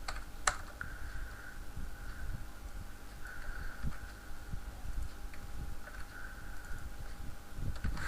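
Code being entered on a computer keyboard: a steady, close run of soft key taps with irregular rhythm and occasional sharper clacks, heard alone without speech over a faint background hum.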